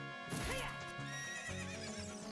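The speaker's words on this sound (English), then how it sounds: "She decides to neigh, you can't climb her during that time" A horse neighs in a video game, a close, clear whinny with rising and falling pitch, set against a steady sustained musical drone.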